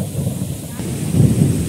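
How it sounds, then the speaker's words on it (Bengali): Thunder rumbles low and heavy during a storm over a river in the Sundarbans, rising in a deep roll toward the end with wind and rain around it. "আর ওদিকে আকাশও ডাকছে সেরকম।"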